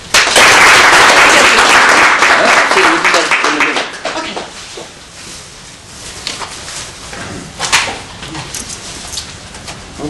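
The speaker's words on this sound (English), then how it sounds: "Applause." Applause breaks out in a clinic room for a happy patient after mini-gastric bypass surgery. A loud burst of clapping lasts about four seconds, then fades into quieter room noise with people talking.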